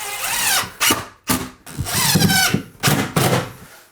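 A power drill drives screws into an IKEA wall-mount vanity cabinet, with loud, close whirring bursts that rise and cut off in short repeated runs separated by brief silences.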